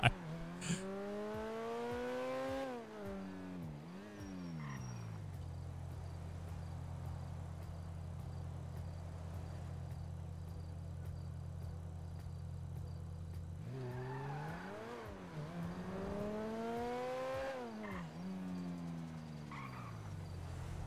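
Engine revs rise and fall through gear shifts, then settle into a steady idle drone before revving up again; a GTA 5 car slowing and accelerating, no skid evident.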